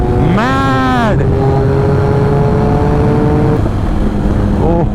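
A motorcycle rides fast along a Rajasthan road, its loud engine rising in pitch through a sharp rev and then droning steadily close up against constant wind roar.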